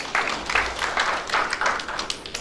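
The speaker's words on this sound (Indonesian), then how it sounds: "Tepuk tangan dulu buat Tuhan Yesus" Congregation applauding in a church service, a steady wash of many hands clapping at moderate distance with rhythmic swells, no voices on top.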